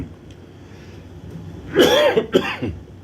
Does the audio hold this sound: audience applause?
no